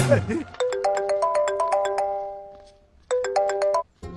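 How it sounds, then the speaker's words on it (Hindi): A mobile phone ringtone plays close by, a bright repeating electronic melody of chiming notes that runs in two phrases with a brief gap between them, following a short burst of voices at the start. "भैया आपको किसी का फोन आ रहा है।"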